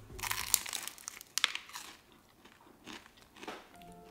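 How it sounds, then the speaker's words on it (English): Crunchy bites into spicy, heavily breaded Jollibee Chickenjoy fried chicken wing, two sharp, close crackling bursts followed by quieter chewing. "Wait for the crunch, wait for the crunch, wait for the crunch."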